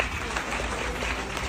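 A crowd at a public felicitation gathering claps in a short, even burst of applause, a dense steady patter heard from a slight distance.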